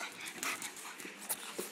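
Quick, soft panting from a Boston terrier close by, with a few small yips and whimpers mixed in.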